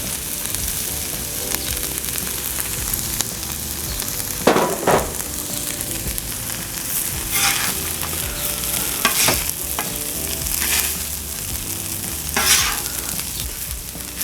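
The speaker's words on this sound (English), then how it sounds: "And now I'm going to start adding the corned beef." Corned beef fries in about two tablespoons of butter in a pan on high heat for hash, with a steady loud sizzle and intermittent stirring scrapes and spatula pushes.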